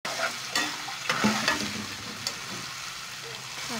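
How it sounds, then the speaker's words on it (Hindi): Ginger garlic paste and green chili paste fry in a pot for achar gosht, a close, steady sizzle broken by scraping clicks as the mixture is stirred. "अब इसमें अपने अदरक लहसुन का पेस्ट ऐड कर रही हूँ और हरी मिर्च का पेस्ट ऐड कर रही हूँ"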